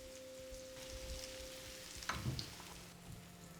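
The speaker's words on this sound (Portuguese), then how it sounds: "a manteiga de tomilho e vou colocar na frigideira" Toast slices fry in thyme butter in a frying pan, giving a faint, steady sizzle with a brief louder clatter midway, close and otherwise undisturbed.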